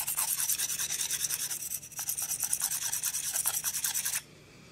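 A Dovo Barbarossa 5/8 straight razor is stroked back and forth on a honing stone in quick, regular rubbing passes at close range for about four seconds, then stops.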